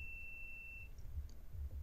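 A multimeter continuity test on spliced wire gives a steady, high-pitched electronic beep lasting just under a second before cutting off, over a low background rumble.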